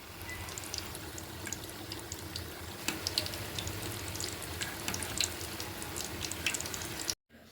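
Batter-coated purnalu dough balls fry in shallow, low-running oil, giving a steady, close crackling sizzle for several seconds with no talking, then cutting off abruptly.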